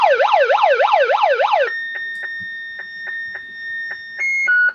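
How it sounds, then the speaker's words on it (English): A wailing emergency siren sweeps up and down rapidly for a couple of seconds, then cuts to short electronic beeps and steady tones as it is switched off, close and loud. "The sirens turned down."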